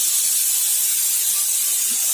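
Garlic and green chilies sizzle in hot mustard oil in a kadhai, a loud, even, high-pitched hiss that runs unbroken throughout with no talking.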